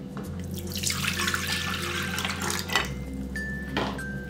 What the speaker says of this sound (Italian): Dentro il cestello della planetaria vado a inserire l'acqua